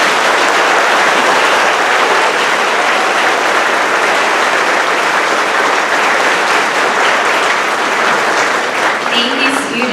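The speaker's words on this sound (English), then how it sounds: "Let's give them another round of applause." Loud, sustained applause from a crowd at an eighth grade graduation ceremony honoring students, a dense continuous roar of clapping that holds steady throughout, with a faint voice near the end.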